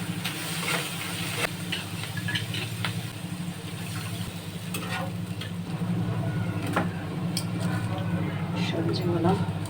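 Vegetables fry in oil with onion paste, cumin, turmeric, chili, coriander and salt, giving a steady hiss and sizzle over a low hum, with a person talking over it and occasional sharp clinks.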